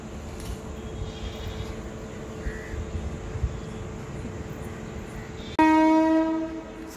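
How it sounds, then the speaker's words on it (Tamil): In Valliyoor, Tirunelveli, a train rumbles past at moderate distance, then its horn blasts suddenly, loud and sustained for over a second before fading, with no voices present. "இப்பதான் அந்த ட்ரெயின் சவுண்டே கேக்கு."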